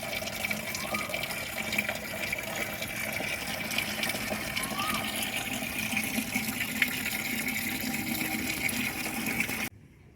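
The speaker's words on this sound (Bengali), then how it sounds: "পাম ভরে গেছে আমাদের জল পড়ে যাচ্ছে" Water steadily pours and splashes as a filled pump tank overflows outdoors in a garden, a continuous broadband gush lasting throughout before cutting off abruptly at the end.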